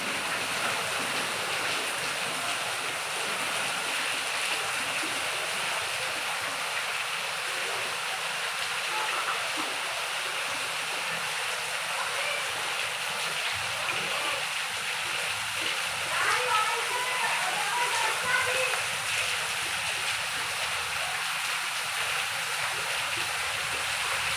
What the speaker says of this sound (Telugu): ఇంకా పెరిగింది ఇంకా ఘోరంగా పెరిగింది వర్షం